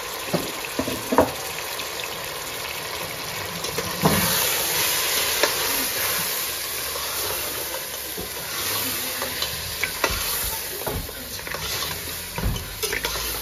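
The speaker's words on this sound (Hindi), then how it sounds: "इसको थोड़ी देर हम ऐसी भुनाई करेंगे" Mutton coated in ginger, garlic, ground chilli, salt, turmeric and black pepper frying in a pan, with a steady sizzle and scattered scraping stirs and clinks throughout, fairly close and moderately loud.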